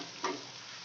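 Chopped onions with ginger and garlic sizzle steadily in a hot pan, with a single brief scrape of stirring near the start and no voices.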